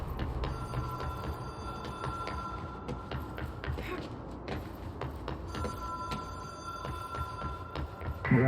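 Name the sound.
telephone ringing in video game Control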